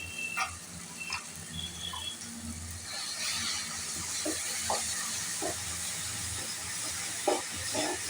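Ginger garlic paste sautéing with tomatoes in a pan, giving a soft, steady hiss of frying, faint and even, with a few light clicks and taps scattered through it.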